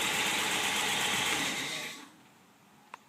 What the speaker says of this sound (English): There we have a 1955 Ford Thunderbird Y-Block motor running on engine run and test stand.